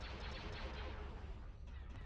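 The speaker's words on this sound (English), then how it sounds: "This is the way you fire missiles." Imperial warship from Star Wars: Empire at War dumping missiles in a space battle over Kuat, heard as a steady, dense rattle of rapid fire and muffled blasts, quiet and continuous with no voices.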